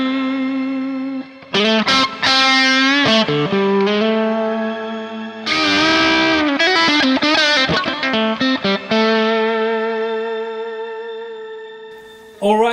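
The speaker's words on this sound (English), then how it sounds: "effect level at 12, depth at 12, tone at 3 o'clock, and the shimmer effect at full." Guitar chords strummed through a Neunaber Immerse Reverberator pedal, shimmer effect at full with effect level and depth at noon and tone at three o'clock, bloom into a thick, sustained halo of high shimmering overtones that rings on between strums and slowly fades.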